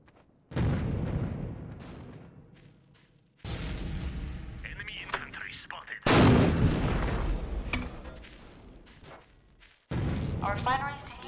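Gunfire and heavy booms from a battle in the Empires Source mod map emp_coast, loud bursts recurring across the stretch with players talking over the shooting.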